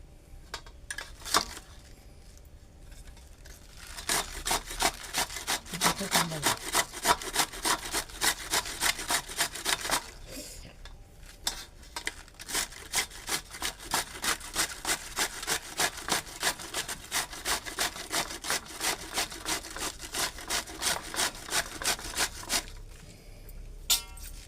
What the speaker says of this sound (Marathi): तुम्ही पाहताय कोबी आम्ही एवढा किसून घेतलेला आहे किसणीने.